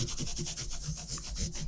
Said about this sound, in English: I'm going to start with the micro polishing pads I always use.